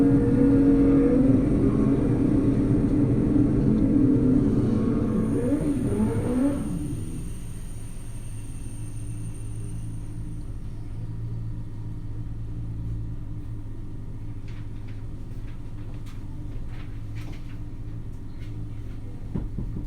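Drag racing cars launching down the track at the 2016 Man Cup DME Racing Nationals, with a loud engine roar for the first several seconds that drops away to a distant rumble.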